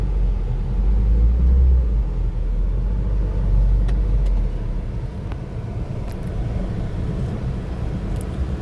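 Car traffic crawling in a jam on the road out of the airport, a steady loud low rumble of engines and tires close by, easing slightly partway through, with no voices.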